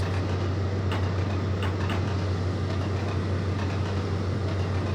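An Intercity 125 train on the East Coast Main Line in the Trainz Plus game slows down, giving a steady low engine drone with faint rhythmic ticking and clatter over it, constant and without speech.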